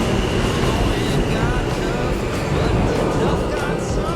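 Train waiting at a station in Jamaica, a continuous broad rumbling and hissing of idling rail equipment, fairly loud and close, with faint voices in the background.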